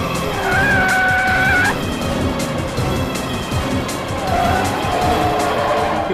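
A hijacked bus swerves from side to side as its tires squeal loudly in two long skids, one early and one near the end, over a rough engine and road rumble.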